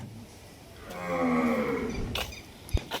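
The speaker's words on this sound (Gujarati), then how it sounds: "આ બધી મોટી ગાયો છે." A large Gir cow lets out a long, deep moo close by at a cow shelter in Salangpur, followed by a short thump and a brief second bovine sound.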